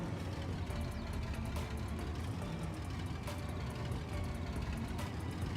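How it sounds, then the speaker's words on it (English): A tractor engine in Farming Simulator 22 rumbles steadily at low volume, a continuous heavy drone with faint clicks over it and no talking. "this tractor has an insane sound"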